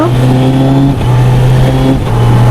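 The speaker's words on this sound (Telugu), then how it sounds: "ఆ క్విక్ షిఫ్టర్ కూడా సౌండ్" A 2025 Kawasaki Z900 motorcycle engine revs hard and loud up close, its steady roar dipping briefly twice as the quickshifter snaps through quick gear changes without a break in the pull.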